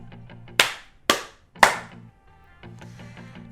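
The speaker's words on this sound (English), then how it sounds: "Clap thrice." Three sharp hand claps in a steady, evenly spaced rhythm, each one close and crisp with a short ring-off, over a faint tonal background hum.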